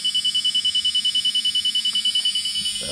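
Rapid, steady electronic beeping from an uncalibrated LS-swapped Chevrolet squarebody truck repeats about ten times per second without pause, a high piercing tone with a faint rumble underneath.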